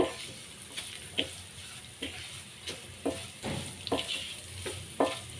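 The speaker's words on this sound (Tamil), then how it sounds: "ஒரு ஒரு நிமிஷம் வதக்கிக்கோங்க அந்த பச்சை வாடை போகிற வரைக்கும்" A ground coconut paste sautés in a little oil in a pan for chayote mor kuzhambu, a low sizzle broken by repeated scraping strokes of a spatula about every second, close and moderately loud, with no voices.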